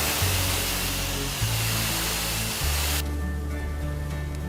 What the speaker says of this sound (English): we're going to go around and just spray all of the plant's foliage